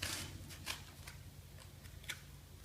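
Scissors or a blade cutting through stiff cardboard for a goose silhouette decoy, giving a few faint, scratchy snips and crunches at irregular intervals with no talk.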